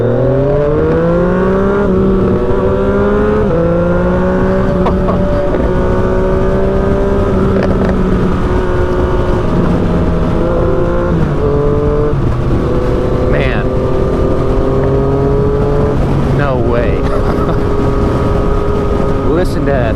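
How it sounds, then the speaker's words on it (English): A Lamborghini SVJ engine revving hard on the road, its pitch climbing through several gear changes as it pulls away, loud and continuous, with a voice briefly audible over it. "Indeed, a Lamborghini SVJ."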